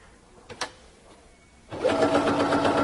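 A Pfaff Quilt Ambition 630 sewing machine starts stitching through fabric after a couple of soft clicks, its motor whirring up to a higher, steady speed and running loud and close to the end.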